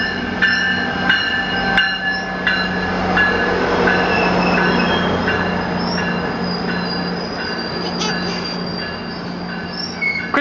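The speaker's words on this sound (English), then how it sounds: "it's a train!" Loud train rolling through a station, its wheels squealing in high sustained tones over a steady rumble and clatter of rail cars, close by and continuous.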